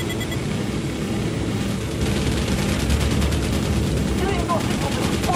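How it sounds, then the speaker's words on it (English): Sustained automatic gunfire from the video game Ghost Recon Wildlands rattles in a dense, continuous barrage, loud and close throughout. "Open fire. Engage."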